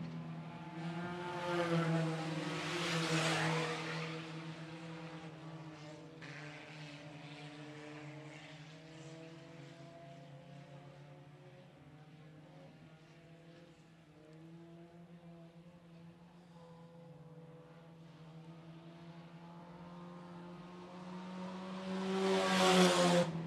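Sport compact race cars drive on a dirt raceway, engines droning and rising as cars pass by in single file, with a louder pass at the start and another near the end.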